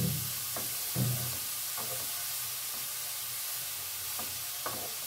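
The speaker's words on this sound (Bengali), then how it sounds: "যতক্ষণ না কালার চেঞ্জ হয়েছে ততক্ষণ পর্যন্ত কিন্তু আমি এটা ভেজে নেব" Pepper halwa frying in a pan, a steady low sizzle with several distinct scraping strokes of a spoon stirring the mixture at irregular intervals, close and moderately loud, with no talking.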